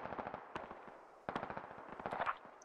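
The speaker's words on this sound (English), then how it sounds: "Now that's an SPG techie we got firing from the east." Distant automatic gunfire from an SPG-armed technical firing from the east in the Squad military shooter, with short bursts of quick rattling shots at moderate volume.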